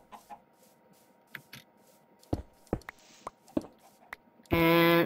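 A Minecraft chicken in the Hexxit modpack is heard as scattered short clucks and clicks over several seconds, ending in a louder sustained tonal burst, no voices present.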